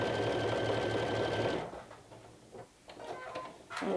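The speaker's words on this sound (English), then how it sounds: "I'm just sewing a rectangle" A sewing machine stitches a rectangle in a steady, fast, close mechanical whir that stops partway through, followed by quieter clicks and handling sounds.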